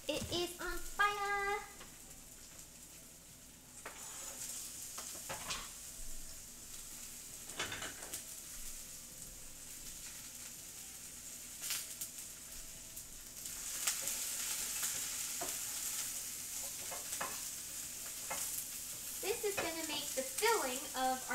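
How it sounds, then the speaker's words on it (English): Onions sizzle in a frying pan during crepe and macaroon cooking, a steady hissing crackle like light rain with occasional clinks of a utensil, while a voice chatters at the start and end. "Sizzle. Yeah, sizzle actually makes it sound like rain"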